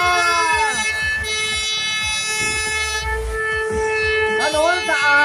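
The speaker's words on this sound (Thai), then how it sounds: "บีบสัญญาณแตรลมนะครับ" A loud, sustained air horn blast signals the start of a procession outdoors in Suphan Buri, a steady blaring tone holding for several seconds close by, with someone talking over it on a loudspeaker.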